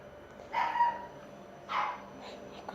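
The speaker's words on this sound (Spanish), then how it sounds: "Escuchen a mi perrito." A small pet dog gives two short yips a second apart, moderately close, over a quiet room background.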